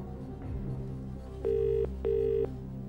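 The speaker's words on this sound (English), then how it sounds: "I'll phone Tim" On a 2000 UK quiz show, a telephone is dialed, then two long ringback tones sound in a steady ring-pause-ring pattern over a low studio music bed.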